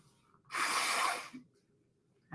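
A single sharp, breathy sneeze bursts out close to the microphone, loud for under a second against near silence, followed by a faint breath.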